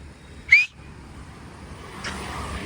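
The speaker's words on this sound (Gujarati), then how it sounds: "ઓય સીટી મારને" A single sharp whistle rings out outdoors at night on a road, short and loud, followed by a quiet background hum and a faint distant swell.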